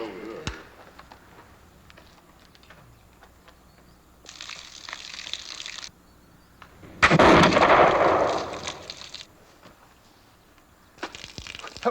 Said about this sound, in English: Well, that's good shooting, Mr. Brasher